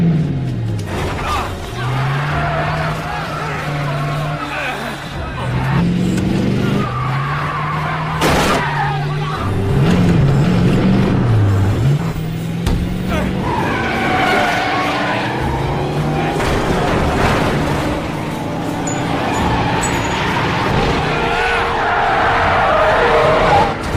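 A car taken over by remote control is steered into a warehouse during a heist film scene, with revving engine and skidding tires under continuous narrating speech.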